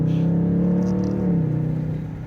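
A 2021 Dodge Charger Scat Pack Widebody V8 revs hard during a line-lock burnout, a loud, close, deep engine drone that holds, rises slightly, then eases off, with no talking.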